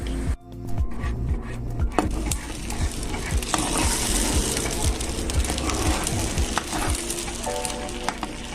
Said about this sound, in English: So I added some black pepper and salt to the eggs, and I'm whisking it briskly.